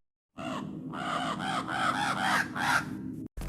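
Blackbirds cawing in a Call of Duty teaser set in a white forest: a run of harsh, repeated caws starting after brief silence, loud and close, then cutting off abruptly.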